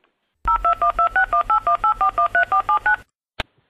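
Loud telephone keypad tones play in a quick, even run of about fourteen beeps, followed by a short pause and a single click, with no voices.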